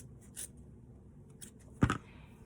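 A single crisp snip of scissors cutting the bottom of a beaded garland, close and fairly quiet, preceded by faint rustles of handling.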